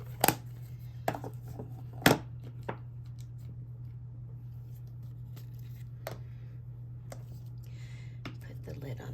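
A craft punch snaps through paper, cutting out shapes for a bee-themed valentine: a handful of sharp, crisp clicks spaced irregularly, close and fairly distinct over a steady low electrical hum.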